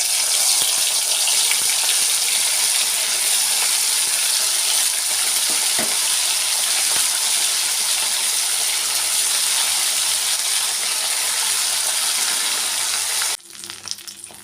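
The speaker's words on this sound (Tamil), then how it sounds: "இப்போ எண்ணெயில் போட்டு ஆயில் நல்லா காஞ்ச பிறகு பொரிக்க வேண்டியது தான்" Prawn 65 pieces deep-frying in hot oil, a loud, steady, dense sizzle that runs continuously with no voice over it, then drops away abruptly at the very end.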